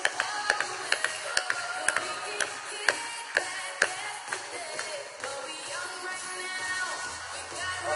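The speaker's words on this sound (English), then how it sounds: "Big round of applause for Jorge." A small audience claps for a volunteer named Jorge during a skincare product demonstration, with sharp irregular claps standing out early, then thinning into a softer background patter.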